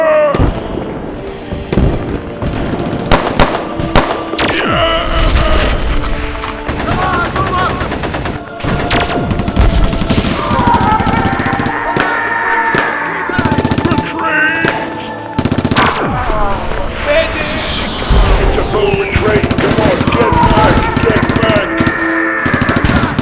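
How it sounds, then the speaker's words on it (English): Rapid machine gun bursts and booming explosions from a Minecraft war movie set at night, dense and loud throughout with overlapping crackling volleys, faint voices mixed in beneath. "The sound of machine gun fire rippled through the night."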